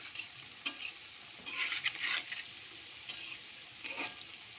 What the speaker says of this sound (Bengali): তেলটা গরম হয়ে গেছে, এবার দিয়ে দেব। একটু লাল লাল করে ভেজে নেব।